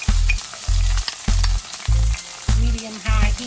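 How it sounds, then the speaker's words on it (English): Vegetables sauté in hot olive oil in a pan, a steady crackling sizzle overlaid by a loud, regular low pulsing thump roughly every half second, with no speech. "sauteing our veggies."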